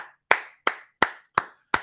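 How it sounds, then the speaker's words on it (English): Five sharp hand claps ring out alone at an even, unhurried pace in a quiet room, each one crisp and close. "hand clap for the G's in the room"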